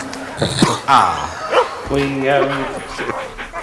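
A dog gives short yips and whimpering barks in quick bursts, close by and mixed in with people talking over it.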